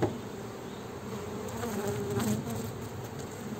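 Honey bees buzz steadily and densely at close range around an open artificial swarm hive, a continuous drone with no voices.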